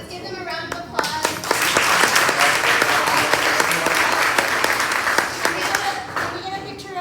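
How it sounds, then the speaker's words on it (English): Audience applause at a chamber of commerce gathering, starting with a few scattered claps, building into full steady clapping, then thinning out again, with faint voices mixed in. "Let's give them a round of applause."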